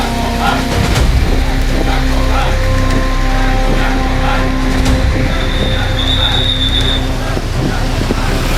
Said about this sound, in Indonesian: Hujan terus mengguyur deras